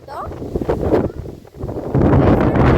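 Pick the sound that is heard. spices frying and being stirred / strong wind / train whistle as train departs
strong wind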